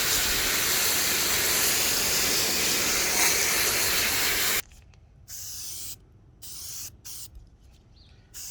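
An aerosol can of K&N cleaner sprays in a long continuous hiss onto an air filter, then several shorter bursts follow after a pause.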